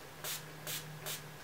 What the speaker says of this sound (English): Just used a little bit of my Badescu rose water spray.